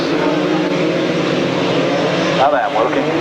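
Grasstrack racing motorcycle engines rev loudly and continuously at the 1995 National Grasstrack Championship finals, a dense sustained engine roar with a rising whine near the end, under a commentator's voice.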